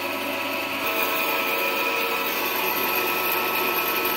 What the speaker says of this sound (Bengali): বনসোয়া মেশিন, এই মেশিন অন করলাম।